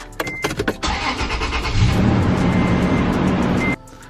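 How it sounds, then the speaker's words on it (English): A Toyota Tundra pickup truck engine cranks and fires up after an oil change, a brief whirring starter followed by a loud, steady idle rumble close by that cuts off abruptly, with no talking. "let's go ahead and turn on the truck real quick"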